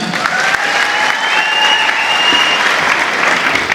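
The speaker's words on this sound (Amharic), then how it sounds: "አንድ ጊዜ ሞቅ ያለ ጭብጨባ።" Warm, dense applause from a large audience at a Bonga University graduation ceremony, loud and sustained throughout with no talking over it.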